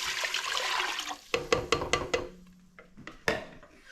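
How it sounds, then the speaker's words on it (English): Chicken broth, about four cups made up from powder, poured into a single pot for a dairy-free chicken pot pie with noodles; a steady liquid pour at first, then several short splashes and glugs close by. "we're going to add 4 cups of chicken broth"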